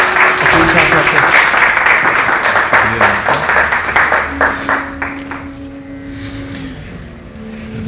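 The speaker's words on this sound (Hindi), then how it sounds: "भरपूर तालियों में इस्तकबाल कीजिए" A mushaira poetry gathering audience in Sialkot applauds loudly with dense clapping that thins and fades out, while a voice talks through it and a tone sounds near the end.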